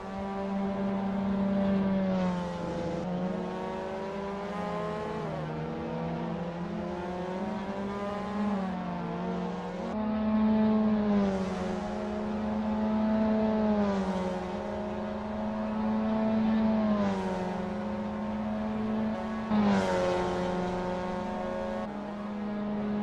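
A Mazda MX-5 Cup race car laps Laguna Seca in Assetto Corsa, its engine note droning loudly and continuously, rising and falling in pitch through repeated upshifts and downshifts around the corkscrew section.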